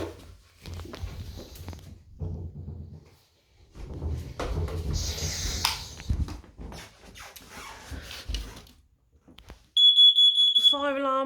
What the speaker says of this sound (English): Fire alarm, first floor's working fine.